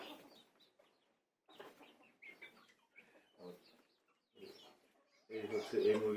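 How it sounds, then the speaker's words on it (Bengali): Three-month-old farm chickens cluck in short, soft bursts as they are fed, growing louder and busier at the end, with a person speaking in between. "এই হচ্ছে এই মুরগিগুলা, প্রায় 3 মাস রানিং।"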